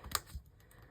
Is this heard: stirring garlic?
no